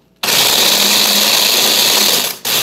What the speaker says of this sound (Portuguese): pode ser no liquidificador mesmo